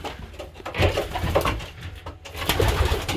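A blue bar pigeon cooing close by in a loft, soft throaty rolling coos repeated over a low rustling background.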